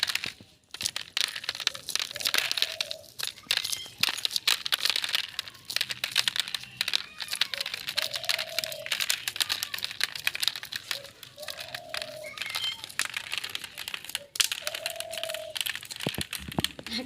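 Kernels are being stripped from corn cobs by hand, a steady close run of dry crackles, snaps and rustling that never stops, while someone talks now and then over it.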